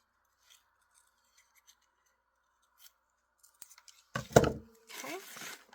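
Scissors snip paper to trim the jagged edges of a craft tag: a few faint, sparse clicks and small rustles, then a loud close run of blade cuts and a longer rasping slice through the paper.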